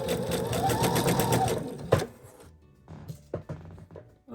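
A sewing machine stitches fabric for a stuffed toy, one sustained run of motor whir with a rising and falling pitch. It then stops, leaving a few short clicks and thumps of the needle and handling, with no talking.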